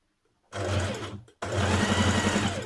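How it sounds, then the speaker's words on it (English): A sewing machine runs in two close bursts, stitching down the inside seam edges of trousers, with a brief pause between runs and a steady rapid needle rhythm. "You may also want to stitch down the inside of your seam edges"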